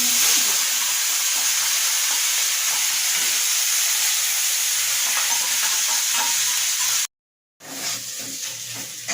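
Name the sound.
frying ground spice paste for goat curry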